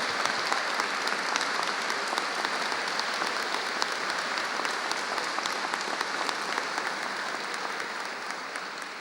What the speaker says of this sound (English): ask everyone just to give them one other big round of applause for such a fantastic achievement